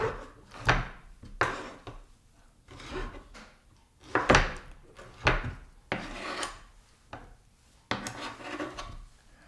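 Knife chopping a Roma tomato and other vegetables on a cutting board for rasam, a series of close, uneven thuds and scraping cuts spread through the clip with short pauses, no talking.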